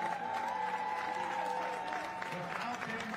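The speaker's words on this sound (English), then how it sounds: "just another big round of applause for all of our staff and volunteers here this week" An audience applauds staff and volunteers at an awards ceremony for a sports competition, a steady wash of clapping that runs under a voice and a faint tonal background.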